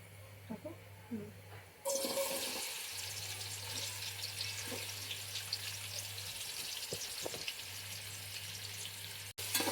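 Onions frying in hot oil, a continuous sizzle that starts abruptly and holds steady for several seconds, with a low hum and faint background noise underneath.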